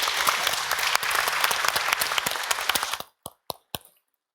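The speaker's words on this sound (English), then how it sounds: "let's get a big applause" Big audience applause at the AgriFood Forum 2022 conference, a thick roar of clapping for three seconds that cuts off abruptly, followed by a few isolated late claps ringing out in the quiet room.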